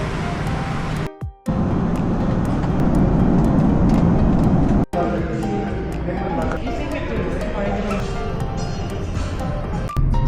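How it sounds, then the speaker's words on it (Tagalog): Busy road traffic rumbles in Solo, Indonesia, a dense continuous wash of engines and passing vehicles, loud and close, with voices speaking over it and a couple of brief dropouts. "Traffic."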